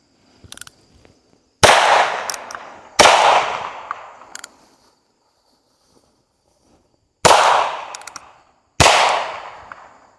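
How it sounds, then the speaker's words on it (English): Four .22 LR shotshells are fired at a test dummy, two Federal Game Shok rounds then two CCI rounds, sharp loud cracks in spaced pairs, each trailing a short ringing decay, with a couple of fainter clicks between. "we're going to fire 2 rounds of the Federal Game Shok, followed by 2 rounds of the CCI Shotshell at our test dummy here"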